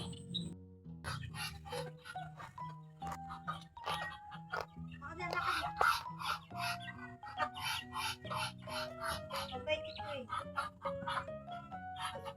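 Chickens cluck in short bursts among other farmyard fowl calls, close by, while people talk over them throughout.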